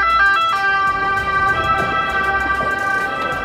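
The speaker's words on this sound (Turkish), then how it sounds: "Ambulansı bekleyelim." Wailing ambulance siren on a street in Florence, Italy, a loud tonal sweep rising and falling continuously, close by and dominating the scene.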